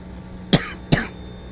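A sick man coughs twice, close and sharp, about half a second apart, with a quiet background between the coughs.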